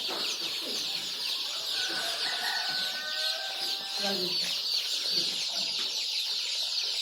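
Rhode Island Red and Australorp chickens at a hatchery, a dense constant chorus of chirping and clucking birds with a few faint calls rising above, and a voice murmuring underneath.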